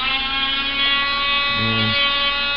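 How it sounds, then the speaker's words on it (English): A Dremel rotary tool countersinking a hole in an RC jet wing gives a close, steady high-pitched buzzing whine whose tone drops briefly under load near the end. "What I'm going to do is take my Dremel"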